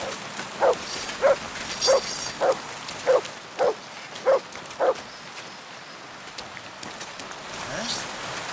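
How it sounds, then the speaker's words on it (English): A dog in the video game Kingdom Come Deliverance 2 barks eight times in an even, steady rhythm at moderate distance, with rain pattering in the background. Quiet speech follows once the barking stops. "Get out of here, mutt! No one wants to hear your barking."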